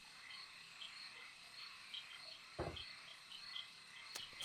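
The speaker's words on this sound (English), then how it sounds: "You hear some croaking, you hear bugs" Frogs croak and insects trill in a swamp, a faint, layered night chorus with a couple of sharp louder clicks nearby and no voices.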